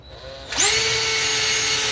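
A power drill spins up loudly and holds a steady whine while driving self-tapping screws into the sheet-metal floor of a 1960 Ford Falcon, close and continuous after a brief quiet start.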